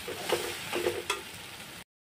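Oil sizzles steadily in a pan while spice powder, onion and garlic are stirred for chicken curry, with a few scraping strokes; the sound cuts off abruptly. No talking.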